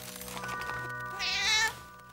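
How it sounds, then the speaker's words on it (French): A cat in an animated children's fantasy episode gives a single drawn-out meow, rising and fading over about half a second, clear above a soft music bed. "Hé, qui a apporté ce chat?"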